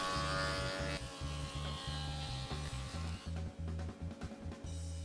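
Jointer cutting a taper on a wooden leg, a steady close motor whine with rhythmic choppy bursts as the board feeds across the cutterhead, loud and continuous with no talking.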